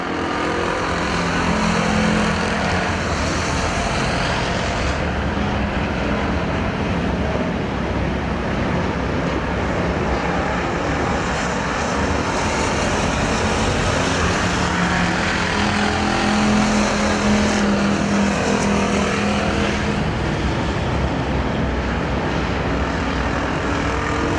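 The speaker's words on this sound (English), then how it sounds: "3 laps to go for Myers, who aimed his car out towards San Bernardino in turn 4 that lap." Factory stock race cars roar around the Perris Auto Speedway dirt oval during a main event, a continuous loud engine drone that swells and fades as the pack passes, with no talk.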